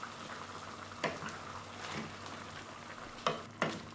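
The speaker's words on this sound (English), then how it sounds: "Alright, and then we'll mix them. We'll mix it." Chicken afritada being stirred in a pot, with a few distinct scraping strokes of a spoon against the pot over a soft simmering sizzle, fairly quiet and close.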